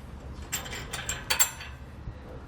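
Metal mounting hardware of an Aries Pro Series grille guard being hand-tightened, a few small clicks and scrapes of a nut and washers turning on a bolt, close and quiet, with no speech.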